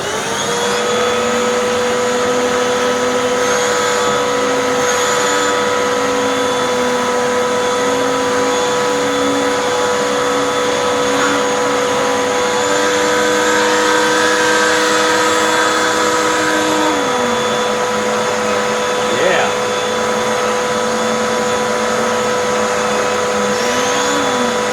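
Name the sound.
Dyson or Hoover vacuum hand turbo tool spinning on cushion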